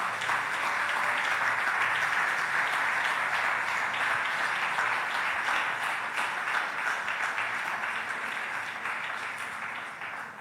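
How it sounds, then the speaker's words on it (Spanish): Congregation at a Spanish-language church sermon applauding loudly, a dense sustained wash of many hands clapping that carries steadily for the full stretch, tapering slightly at the end. "Dele un fuerte aplauso a nuestro Dios,"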